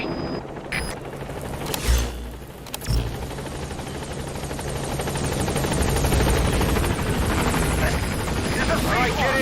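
The Pequod helicopter from a tactical video game arrives at the landing zone, rotor thump and engine roar building steadily and growing louder as it nears, with a few sharp mechanical clanks early on.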